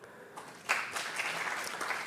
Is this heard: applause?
yes